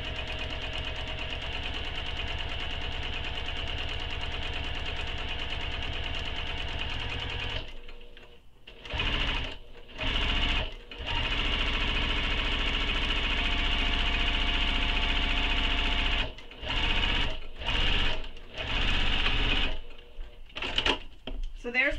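A sewing machine runs in long steady stitching bursts while sewing tote bag handles, stopping and restarting several times with short pauses, close and continuous.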